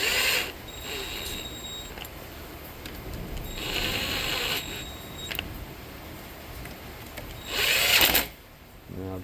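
Screws being driven back down into the soft gear housing of a Troybilt weedeater: a steady close ratcheting whir of a driver in short bursts, with a louder final buzz near the end.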